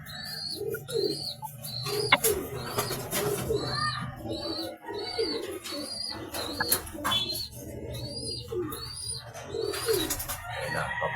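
Racing pigeons in a loft coo continuously in a dense, overlapping chorus, with occasional chirps and wing flaps, steady and fairly close throughout.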